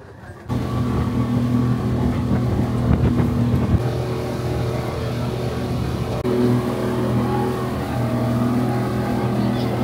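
A motorboat cruising on water during a short ride at A'Famosa Safari Theme Park in Malaysia, its engine droning steadily and loudly with wind rushing across the microphone throughout.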